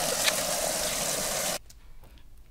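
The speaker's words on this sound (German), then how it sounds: "Jetzt fülle ich hier nur noch schnell das Wasser auf." Water gushing into a container to refill ponies' drinking supply in a stable, a loud steady rush that stops abruptly partway through, leaving quiet background.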